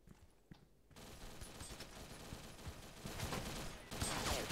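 Rapid bursts of machine gun fire from the Special Force 2 video game rattle on and grow louder toward the end, with no voices over them.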